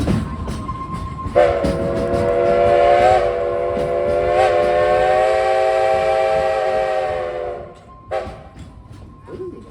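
A loud, sustained steam whistle blows steadily for about seven seconds over rumbling rail noise at Silver Dollar City, then cuts off, leaving the clatter of a train.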